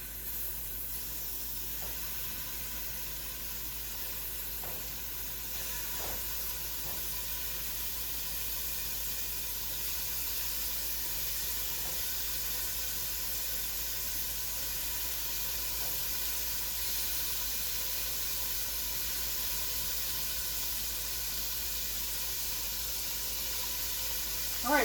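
Meat pieces brown in a pan with a steady, soft hiss of sizzling fat that continues unbroken for the whole stretch, with a few faint clicks, at a moderate distance and no talking.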